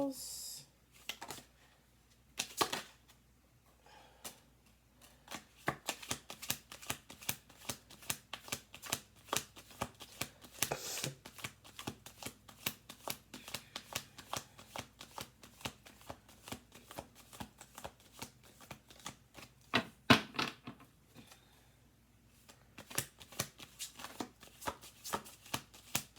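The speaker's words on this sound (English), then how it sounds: "Let's do two more shuffles." Playing cards being shuffled by hand over and over, a dense run of crisp riffling clicks and flutters in repeated bursts, close and fairly quiet, with brief pauses between shuffles.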